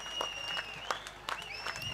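A crowd claps for a girl in a Govinda human pyramid in Rajapur, with brief, fairly faint applause under a sustained high tone and some voices.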